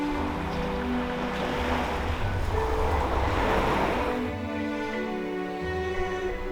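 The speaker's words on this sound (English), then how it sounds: "seek the cool relief of the beach, where the waves offer a refreshing escape" Ocean waves wash onto a beach in a steady, broad surf roar, swelling in the middle and easing toward the end, with light wind noise and no voices.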